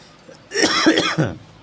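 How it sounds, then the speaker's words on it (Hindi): A single harsh cough or throat-clearing burst, close and fairly loud, lasting under a second. "सुबह से बोल रहा हूँ मैं, खांसी बहुत आ रहा है।"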